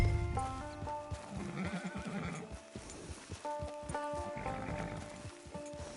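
Horse whinnies loudly and hooves clip-clop in Red Dead Redemption 2, with harmonic neighs near the start and again mid-clip over a steady rhythm of hoofbeats and background game music.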